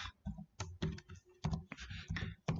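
Rapid, irregular clicks and clacks of a computer keyboard as C code is typed, close and clear with short pauses between bursts of keystrokes.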